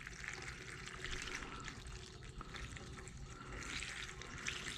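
A gallon of liquid pours steadily into a Kubota L1501 tractor, a continuous faint gurgling wash with no pauses.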